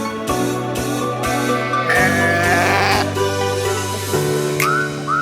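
Several sheep at a sheep farm on Geoje Island bleat loudly and close together in overlapping calls, with a couple of high whistle-like sounds near the end.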